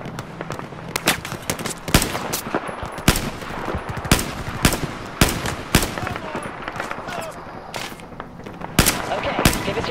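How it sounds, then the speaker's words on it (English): Rapid bursts of gunfire and sharp shots from the video game Battlefield 4, crackling in irregular clusters across a noisy battlefield, with a voice occasionally speaking under the shooting. "I don't even know where they're shooting at me from"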